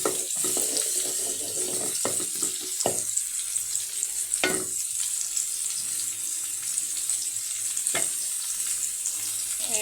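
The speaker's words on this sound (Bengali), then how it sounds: "তো তেলের মধ্যে পেঁয়াজ রসুন দিয়ে দিলাম, একটু বাদামি করে ভেজে নিচ্ছি।" Onion and garlic frying in oil in a pan alongside frying fish in a home kitchen, a steady hissing sizzle with occasional stirring clatters, close and without talk.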